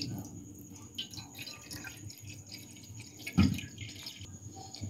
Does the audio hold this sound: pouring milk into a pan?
yes